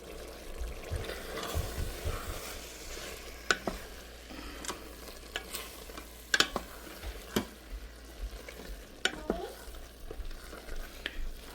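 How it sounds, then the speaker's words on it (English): Green chilies are stirred into aloo keema frying in a pan, with a steady sizzle broken by repeated scrapes and clinks of the spoon against the pan. "So I'm gonna drop them in. And mix them well."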